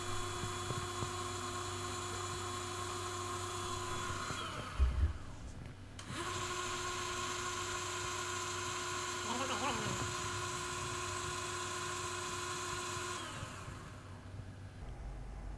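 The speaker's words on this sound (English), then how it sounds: "It is gonna spin several times to detect the motor." A Talaria Sting e-bike motor spins up under a Nucular controller during motor detection, a steady high electric whine with harmonic tones that cuts out briefly and restarts, running continuously across the span.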